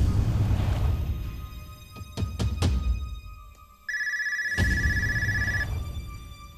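Loud broadband noise dies away into quiet with a few sharp clicks, then a telephone rings in a steady, bright electronic tone for nearly two seconds before the room noise returns.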